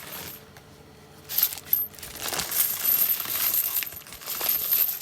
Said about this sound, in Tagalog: sa dami niyang naipon ng mga barya. Tsaka token.